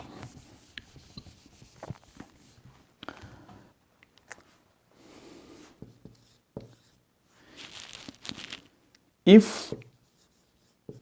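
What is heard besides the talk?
writing examples by hand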